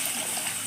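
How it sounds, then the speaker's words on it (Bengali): Water poured into a wok in a home kitchen gives a short, steady rushing splash, close and even throughout. "আমি এবার এই রান্নাটির জন্য আগে কড়াইতে জল দিয়ে দেব"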